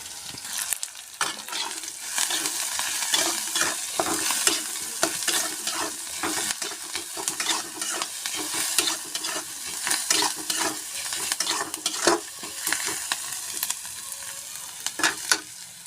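Mushrooms and onions frying in a pan, a continuous loud sizzle broken by frequent scrapes and clatters of a spatula stirring, alone with no talking.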